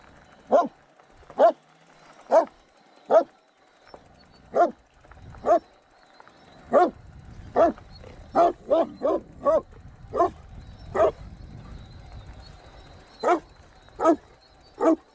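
Dog barking at a cyclist on a bikepacking route across Nevada: a string of sharp, loud barks at fairly even spacing, some closer together, with a few whimpers and wind rumble in between.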